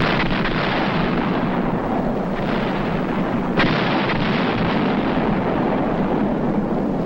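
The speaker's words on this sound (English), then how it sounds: "tanks support the Marine attack with salvos from their high-velocity weapons" Korean War tank guns firing salvos in support of a Marine attack on targets about 1,300 yards away, heard as a dense, continuous rumble of heavy gunfire with one sharper report standing out, steady and loud throughout.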